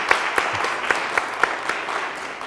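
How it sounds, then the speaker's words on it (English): Scattered applause from a small audience, a handful of distinct sharp claps spaced out at an irregular rhythm, fairly close and modest in volume. "I think she deserves a little round of applause again"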